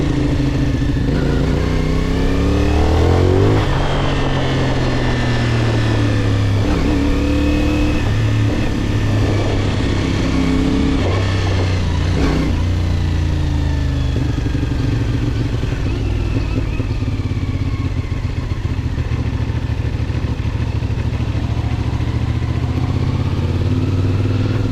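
A CFMOTO 450SR motorcycle engine running loud and close, revving up and down repeatedly with throaty pitch swings and a steady rumbling idle underneath.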